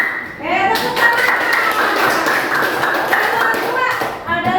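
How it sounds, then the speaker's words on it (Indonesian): Classroom of children clapping their hands together in a quick, sustained burst, loud and close, with young voices shouting and chattering over the applause. "Tepuk tangan."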